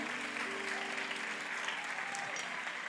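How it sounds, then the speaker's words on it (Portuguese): A church congregation applauds during a sermon, a steady dense wash of clapping hands that continues evenly throughout, fairly faint, with a low hum and sustained tones underneath. "Pode aplaudir o nome do Senhor."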